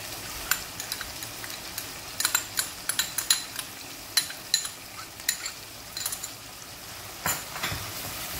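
Minced meat sautéing in a pan with garlic, ginger and onion gives a steady sizzle, broken by a run of sharp spoon scrapes and clinks against the pan, heard close with no talking.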